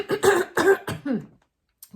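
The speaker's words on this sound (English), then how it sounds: "to clear my throat a little bit." A voice clears its throat in several rough, gravelly bursts, then falls silent, with a faint click at the end.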